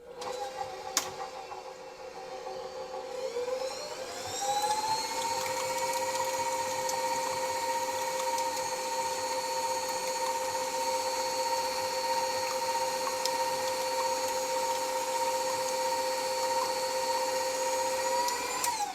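An electric mixer whirs steadily as it mixes pupcake batter for a dog's birthday, starting low and ramping up to a higher constant hum that runs on alone.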